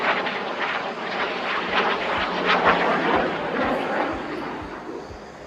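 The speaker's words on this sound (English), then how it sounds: "the aircraft accelerates to a speed of 400 knots to perform few snap rolls right in front of you" A fighter jet accelerates to about 400 knots for snap rolls at the Aero India 2025 air show in Yelahanka, a loud continuous roaring jet rush sustained throughout from a distance.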